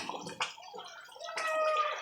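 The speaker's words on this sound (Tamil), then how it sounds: "இது அப்படியே பபுள்ஸ் வந்து நல்லா தெரிக்கும்." Thick tomato thokku bubbles and splatters in a cooking pan, a close, irregular run of soft pops, gloops and sputters with brief hissing bursts, heard alone without talk.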